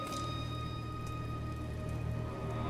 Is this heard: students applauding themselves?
no